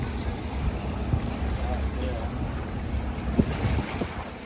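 Sea water on the Bosphorus shore at Beykoz, a continuous wash of lapping waves mixed with wind buffeting the microphone, with faint voices in the background.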